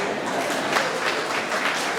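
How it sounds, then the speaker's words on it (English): Audience clapping for themselves during a talk on St. Joseph, a steady, even patter of many hands at moderate loudness, sustained for the whole moment without a clear break. "Clap for yourselves."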